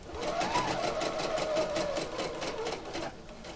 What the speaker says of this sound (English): I'm going to be sewing my 90 degree angle.